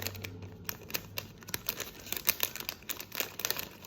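Wrapping on an earrings package crinkles and crackles in dense, irregular bursts while it is unboxed close up, with brief tearing-like rustles and no talking.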